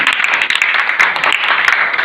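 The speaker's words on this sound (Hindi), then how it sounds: "आप लोग तालियां बजाइए।" An audience at a National Service Scheme camp event at a college bursts into dense, sustained applause, many hands clapping loudly and close together for the whole short stretch.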